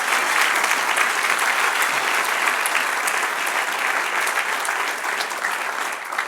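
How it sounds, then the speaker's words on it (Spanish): A church congregation applauds steadily and loudly throughout, a dense wash of clapping with no voices standing out above it. "Denle un aplauso al que reina."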